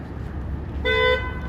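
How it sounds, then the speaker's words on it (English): A single short car horn honk rings out briefly over low traffic rumble. "This car is honking."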